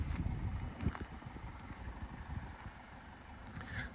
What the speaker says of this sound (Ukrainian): Моторчик шепче просто.